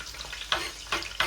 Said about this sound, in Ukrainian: Та й смажиться.